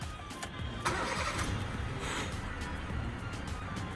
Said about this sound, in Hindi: मैं आपको एक बार इसका इंजन की आवाज़ भी सुना देता हूँ